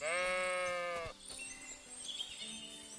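A sheep gives one long, loud, wavering bleat close by, then falls quiet. Softer rustling and faint chirps continue afterward.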